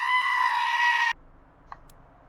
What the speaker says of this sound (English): A herd of goats is running in frightened circles.